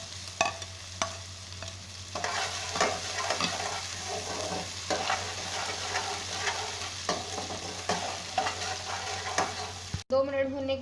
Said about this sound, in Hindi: जीरे का कलर चेंज होने के साथ ही हम इसमें जिंजर गार्लिक पेस्ट ऐड कर देंगे।